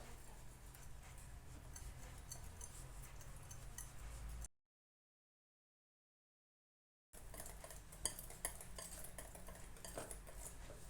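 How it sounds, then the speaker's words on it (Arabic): A spoon stirs a chocolate and water mixture for cake cream in a bowl, with soft, continuous scraping and light clinks, broken by a pause of silence before the stirring resumes. "دابا غادي نوجدو الشوكولاط مع الماء اللي غادي نديرو الكريمه باش ما تجيناش كتقهمنا. كنضيف الماء وكنخلط"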